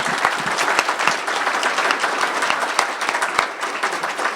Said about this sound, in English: Everyone, please give him a big round of applause.